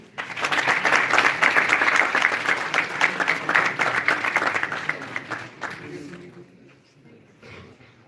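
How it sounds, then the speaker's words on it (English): Audience applause at a GIS Day university event honoring a poster competition prizewinner: dense, steady clapping from a sizable crowd for about five seconds, then thinning into a few scattered claps and quiet room tone. "Please put your hands together for her."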